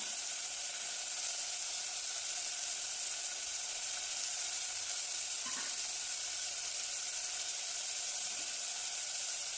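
Chopped carrots frying in a pan, an even bright sizzle that holds steady throughout, with one faint clink of a utensil.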